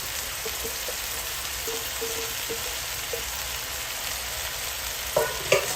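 Bean sprouts, mushrooms and cilantro for vegetable lumpia sizzle steadily in a pan. Light scraping and clinks of stirring come through, ending in a couple of sharper knocks, with no talking.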